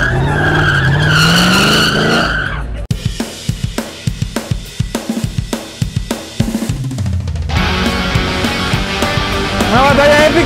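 A car at a quarter-mile drag race in Sinaloa, Mexico, with loud tire squeal and engine roar, then a rapid series of pulsing pops, then a sustained high screech, all up close.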